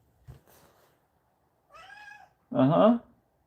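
A house cat meowing indoors: a soft chirp, then a drawn-out mew and a louder, fuller meow near the end, close and alone in a quiet room.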